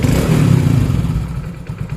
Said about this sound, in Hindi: आपको एकदम से एक्सीलेटर देके छोड़ देना है।